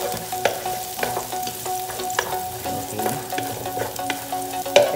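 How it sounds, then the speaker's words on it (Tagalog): Garlic sautéing in a pan for beef kaldereta gives a close, continuous sizzle broken by frequent clinks and scrapes of stirring, with no one speaking. "just like that, garlic. So, igisa nyo lang po siya ng bonggang-bongga"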